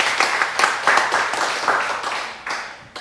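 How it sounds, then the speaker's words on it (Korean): A church congregation claps together during a Sunday worship service, a thick, steady burst of many hands, close and loud, fading slightly toward the end. "하나님께 박수 한번 드리겠습니다."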